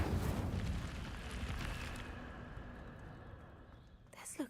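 A fire spell in Hogwarts Legacy bursts out with a loud whooshing roar and crackle that fades over a few seconds, followed by a brief voice near the end.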